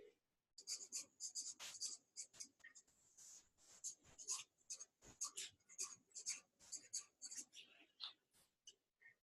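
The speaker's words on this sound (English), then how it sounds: "I'm going to write something with my right hand now" Someone writes by hand with the right hand, producing quiet, rapid scratching strokes in short irregular bursts that continue steadily throughout, close and soft with no talking.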